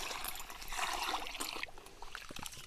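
Rice rinsed in clean water, giving a continuous close trickling and sloshing with light splashes, then quieter swishes toward the end.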